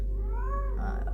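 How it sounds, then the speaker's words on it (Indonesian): A domestic cat gives a single clear meow, rising and then falling, close by and over a low steady hum indoors. "itu kucing saya, namanya Pau-Pau"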